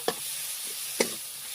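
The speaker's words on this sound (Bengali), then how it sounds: "মশলা করতে ভালোভাবে আমি ভাজে নিব।" Spice masala with chopped tomatoes fries in a pan under a steady sizzle, with two sharp scrapes of a spatula stirring it about a second apart.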